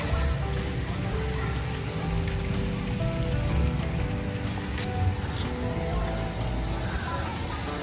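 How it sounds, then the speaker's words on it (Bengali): A steady hiss of light rain falls continuously in a forest at Mukutmanipur, with faint scattered drips and a low rumble underneath. "টিপ টিপ করে বৃষ্টি পড়ছে"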